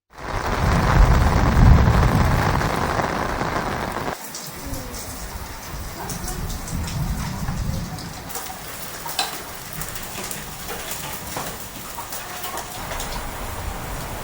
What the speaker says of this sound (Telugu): ఉరుములతో కూడిన వర్షం పడింది